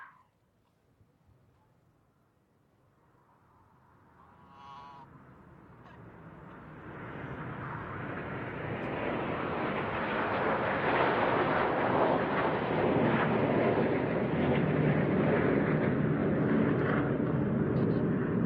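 Aerobatic display jets flying in formation, the Red Arrows rolling and trailing blue and red smoke, with a roar that swells from near silence into a loud, sustained rushing drone overhead.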